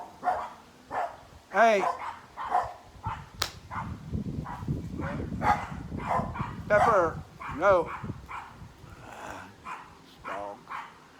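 A dog barks repeatedly in sharp, close bursts through the clip, with some yips and whimpering notes, while a person talks over it.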